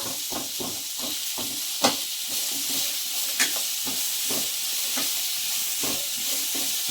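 Onions with salt frying in a pan for a poori potato curry, a steady close hiss and sizzle with frequent stirring scrapes and a couple of sharper clinks, no talk.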